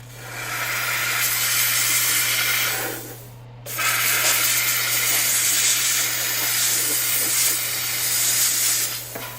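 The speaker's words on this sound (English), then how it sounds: "And then I'm going to steam it again." A steam cleaner blasts a dental Hawley retainer with a loud, steady hiss that stops briefly partway through, then resumes and continues to the end.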